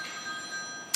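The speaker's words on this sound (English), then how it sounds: "I think that's my phone" A telephone bell rings through the whole second, steady and moderately loud, with a sharp click at the very end.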